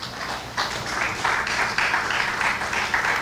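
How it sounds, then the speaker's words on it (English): Applause from an audience at an official loan signing ceremony, a dense steady patter of many hands clapping that swells after a brief lull and carries on at a fairly close, full level. "Please give them a round of applause."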